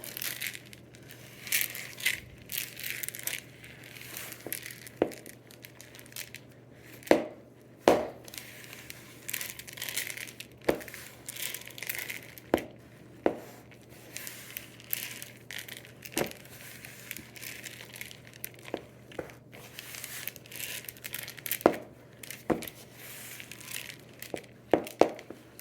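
Chocolate chips are worked into homemade Toll House cookie dough with a utensil, giving quiet, repeated crunchy scrapes and soft knocks at an uneven pace, with no talking.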